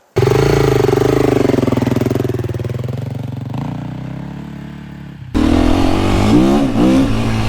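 A 2025 KTM EXC-F dirt bike revs loudly in snow, holding a high engine note that eases off and then climbs hard again, near and alone.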